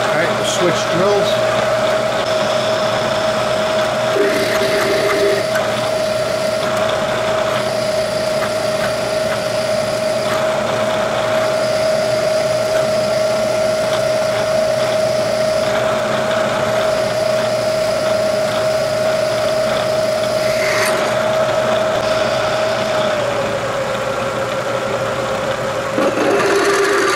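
Drilling on a Bridgeport milling machine, a steady whining motor tone with a continuous mechanical hum and rattle running throughout, loud and close, with a person talking over it at times.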